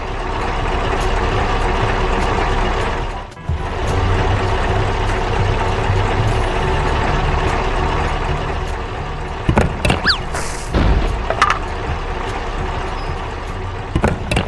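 A truck drives on along a road and over a bridge in a toy construction scene, a loud steady engine rumble throughout, briefly dipping, with a few sharp knocks and squeaks toward the end.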